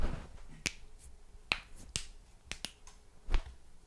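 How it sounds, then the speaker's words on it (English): Several sharp knuckle or finger cracks held close to a microphone, isolated pops spaced irregularly over a few seconds against a quiet background, with no talking. "Like when you breaking the fingers and you have this sound."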